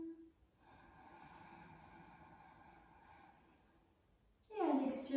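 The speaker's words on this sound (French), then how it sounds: "J'inspire. J'expire." Slow, audible breathing during a hatha yoga session, a long drawn exhale followed by a sharper inhale, close and quiet with a faint background hum.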